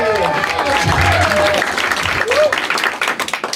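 A comedy club audience claps and cheers as a comedian is welcomed onstage, a loud burst of applause with whoops and crowd voices that tapers into scattered claps by the end.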